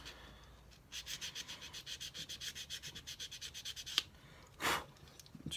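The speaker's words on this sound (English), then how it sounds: "So we just grab the sanding stick, give it a quick buzz, just to take the shine away." Sanding stick rubbed over a plastic part from a 1:9 Italeri Manx Norton model kit, a quick rhythmic series of about twenty close, soft back-and-forth rasping strokes, then a short louder scrape near the end.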